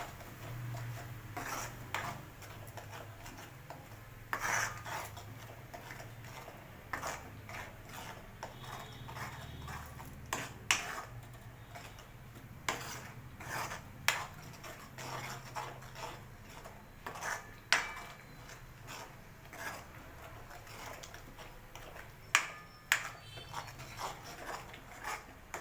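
A spatula scrapes and clinks in a pan while ground masala paste is sautéed for a paneer and peas curry, faint irregular taps and scrapes recurring throughout at close range.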